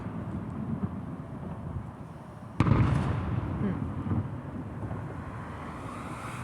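Fireworks explode outdoors with a big deep boom bursting out partway through, followed by lingering rumble and crackle over steady wind and ambient noise.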